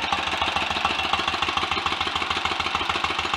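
A rebuilt Royal Enfield 1000 cc Model K motorcycle engine runs close by at an even, rapid thumping idle, loud and steady with a dense mechanical clatter throughout.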